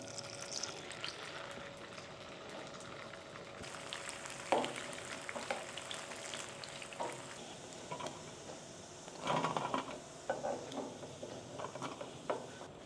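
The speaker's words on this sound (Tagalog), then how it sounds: "So unahin natin prituhin yung mga squid balls." Squid balls deep fry in hot oil for a lomi topping, a low continuous bubbling hiss with scattered crackles and bursts of spattering, a few louder clatters from stirring, no talk.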